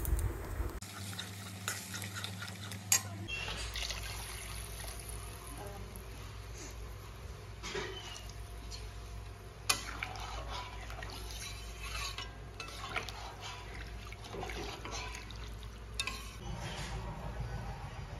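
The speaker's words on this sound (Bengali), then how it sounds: "মশলাটা আমার ভাজা হয়ে গেছে, এখন দিয়ে দিচ্ছি জল।" Water poured into a pan of fried spices while making rui fish curry with potatoes, giving a steady sizzle and bubbling hiss that runs throughout with small stirring clatters.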